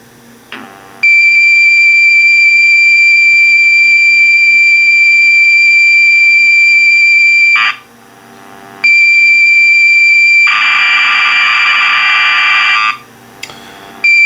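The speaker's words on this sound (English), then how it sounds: "Yep, that sounds like a game loading to me." An MSX game loads from a Toshiba HX-C810 cassette recorder: loud, steady high-pitched data tones hold for long stretches, broken by short gaps and a burst of harsher noisy warble near the end.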